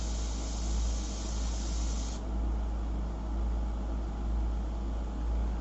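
An airbrush sprays paint for a portrait in a steady, close hiss with a low hum underneath, its tone shifting a little partway through, with no talk.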